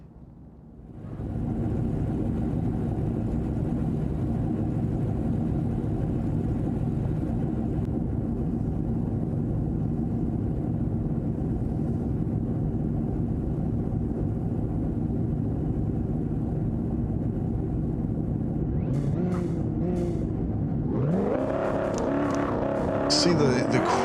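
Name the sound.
Lamborghini race car launching and accelerating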